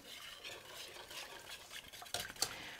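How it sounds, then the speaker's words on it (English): A spoon stirs dairy-free broccoli cheese soup in a pot, a quiet soft swish ending in a couple of sharp metallic clinks against the pot's side. "So I'm going to give that a good stir."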